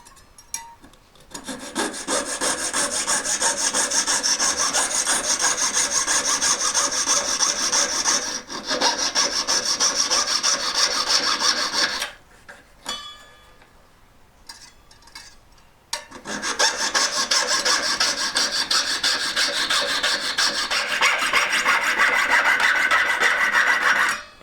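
A rasp or file scrapes back and forth across wood to flatten the bottom of a cut, in long steady strokes with a brief pause and a few quieter scrapes midway before the strokes resume. The sound is close and dry, and no one talks.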